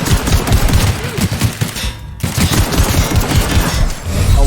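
Sustained, loud machine gun fire in The Outer Worlds video game, a dense rapid stream of shots with a brief pause midway before the burst resumes.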